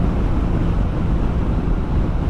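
Heavy, roaring wind rushes past a rider on a 2022 Suzuki GSX-S1000GT motorcycle in traffic, a loud, steady low buffeting with no break.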